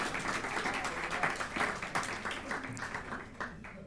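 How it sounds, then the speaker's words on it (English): Audience applause at an entrepreneurship summit, a steady wash of many hands clapping that fills the room throughout, with some voices mixed in. "You need to give us a round of applause."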